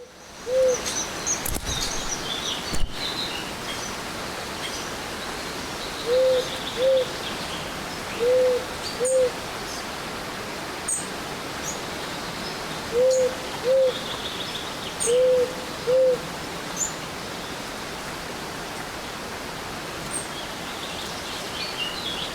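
Repeated owl-like hoots from a rare bird in the video game Eastshade, coming in paired bursts at a steady spacing over a constant hiss of ambient game sound, with no talk.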